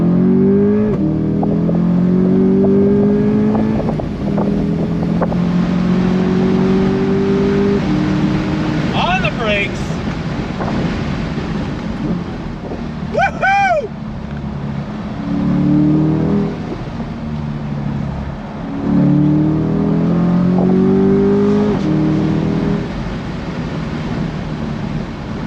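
A 2023 Chevrolet C8 Corvette with the top down runs at full throttle, its engine roaring loudly and climbing in repeated pulls broken by quick paddle-shift gear changes, while a person talks and exclaims over the noise.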